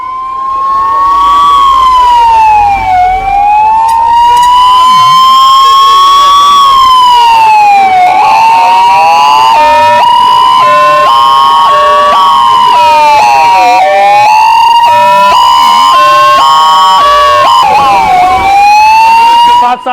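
Ambulance sirens wailing loud and close at the scene of a Goa nightclub fire, with several overlapping rising and falling tones and a faster yelping pattern, continuing without a break.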